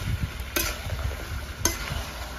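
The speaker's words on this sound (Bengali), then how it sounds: "মাংস একটু ভালো করে না কষলে কিন্তু রান্নাটা ভালো হবে না" Chicken curry meat frying in a pan, a continuous close sizzle with a stirring spoon scraping through it and two sharp metallic clinks against the pan.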